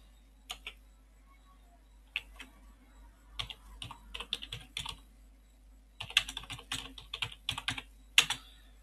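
Quiet typing on a computer keyboard while editing settings in a text editor, bursts of soft clicking keystrokes with pauses between, close and faint, no talking.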